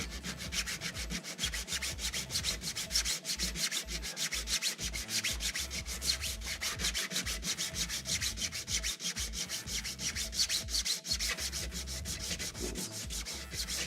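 Sandpaper rubs by hand along the small edges of a model VTOL dropship body, a steady close rasp in quick repeated back-and-forth strokes, alone without talk.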